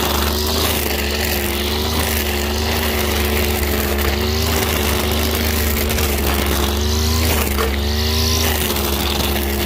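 A brush cutter engine drones steadily and loudly up close while trimming between landscape trees, holding a constant pitch with slight wavering throughout.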